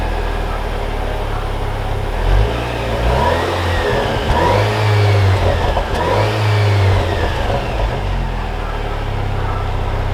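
A 2021 Jeep Cherokee Latitude Lux SUV engine pulls away, its note rising and falling through a couple of gear changes as it accelerates, heard loud and steady from inside the cabin with no talking.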